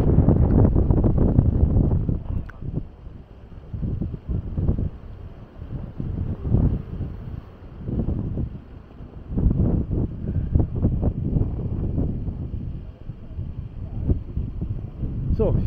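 Strong coastal wind at Maspalomas, Gran Canaria, buffets the microphone in loud, continuous rumbling gusts that rise and fall.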